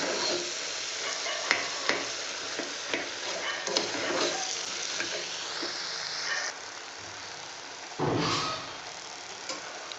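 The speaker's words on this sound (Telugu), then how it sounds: "క్రష్ చేసి వేసుకోండి వన్ టేబుల్ స్పూన్ అనుకోండి కసూరి మెత్తి ఫ్లేవర్ కోసం వేస్తున్నాను" Crushed dried fenugreek leaves (kasuri methi) go into a bean and green pea curry in a pan, with steady stirring scrapes and a soft sizzle, close and continuous, a louder burst near the end, no talk.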